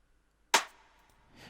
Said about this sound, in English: the rim shot sounds like this.